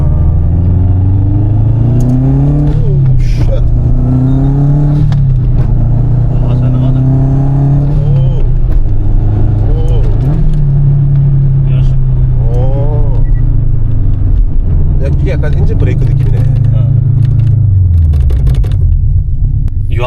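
A Subaru STI engine revving and accelerating up close, loud droning tones repeatedly climbing and falling through several rev sweeps, with rumble and occasional sharp clatter over the steady engine noise.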